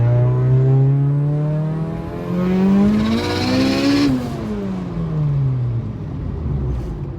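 A 750 whp Mitsubishi Evo 9 accelerating hard in second gear from low revs: a loud, close engine drone climbing in pitch, a brief dip and then a falling tone, with no speech over it.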